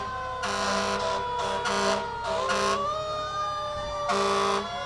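A fire truck siren wails steadily while a deep horn blasts in several short bursts, loud and close, at a Christmas street event.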